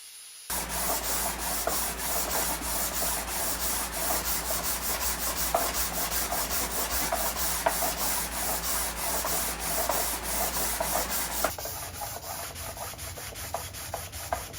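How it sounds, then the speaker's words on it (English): Steady, continuous sanding strokes rub across a wooden bass fretboard as it is shaped to a 12-inch radius, a dense rhythmic scraping that runs close and loud, thinning to lighter strokes near the end. "after quite a lot of sanding, we're at the 12-inch radius."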